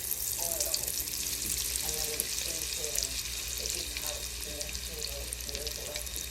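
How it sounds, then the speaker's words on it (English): Stuffed jalapeño peppers deep frying in oil at 350 degrees, with a steady bubbling sizzle and a faint hiss throughout, close and fairly quiet. "Again, cooking them in the deep fryer at 350."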